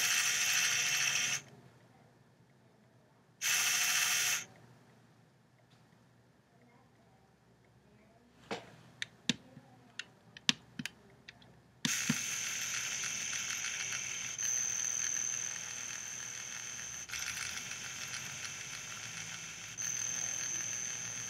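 A LEGO EV3 motor driven by a rotation program loop on the EV3 brick whirs in several short bursts, with small clicks between runs and a longer steady hum at the end.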